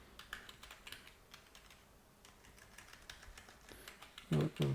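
Keys clattering on a computer keyboard while a Linux install command is entered, a quiet close run of irregular taps ending in a couple of heavier keystrokes.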